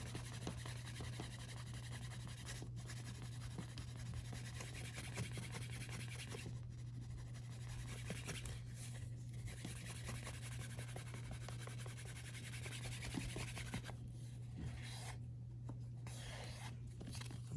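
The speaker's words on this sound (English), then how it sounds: "take a cotton bag or a heavy canvas bag and just remove the excess first. And after that, just go around and you know, just buff it up" Buffing the edge of a handmade leather wrap wallet with a cotton or heavy canvas bag gives steady soft rubbing and rasping, close and continuous over a constant low hum, with a few brief pauses.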